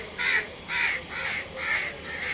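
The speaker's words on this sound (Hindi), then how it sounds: "ये देखिए ऊपर ये सारे कौए ही कौए दरख्तों के ऊपर, यहाँ पर कौओं के झुंड हैं" A flock of crows perched in garden trees caws in a steady sequence of four or five harsh calls, clear and fairly near, with no talking.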